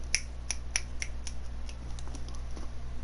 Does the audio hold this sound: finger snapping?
yes